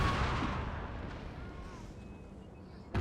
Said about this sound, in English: So you don't get a chance of getting clipped by the cannon.